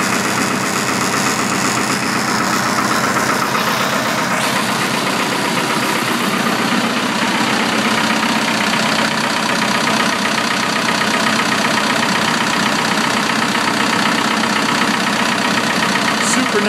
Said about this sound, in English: Super nice generator, really is not loud.